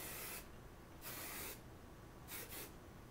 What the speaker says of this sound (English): I just take my Kenra Volume Spray